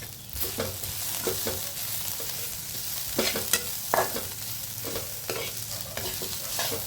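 Onions frying in a pan for kanda poha, a steady sizzle under repeated scraping stirs from a spatula, close and moderately loud with no voices.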